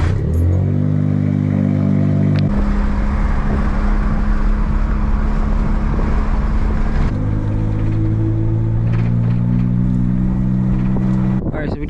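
Suzuki Cappuccino being driven, a loud, steady engine drone with clear harmonic tones that shift pitch as the gears change, close inside the car, with a voice speaking faintly underneath.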